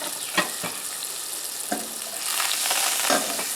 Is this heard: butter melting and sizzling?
yes